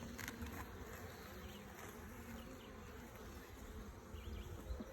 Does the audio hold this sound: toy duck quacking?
no